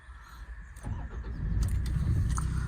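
Toyota Land Cruiser LC-4, an eight-seat 4WD, cranks briefly and fires up, settling into a steady, low rumbling idle heard close from inside the car, with no talk.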